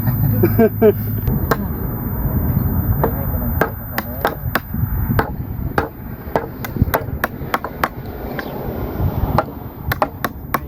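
Sharp repeated metallic strikes while drilling a well for a hand lever water pump, a steady series of loud clanks and knocks over rumbling background noise, with brief voices early on.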